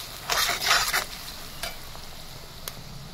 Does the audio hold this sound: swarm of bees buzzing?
no